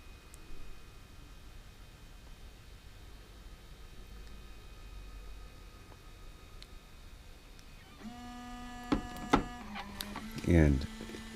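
FujiFilm Instax printer printing a photo, heard as faint quiet hum and room tone, then mechanical whirs, clicks and a final motorized push of the print near the end, up close.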